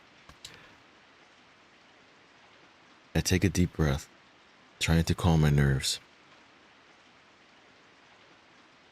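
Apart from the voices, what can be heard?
rain in the video game Corpse Party: Book of Shadows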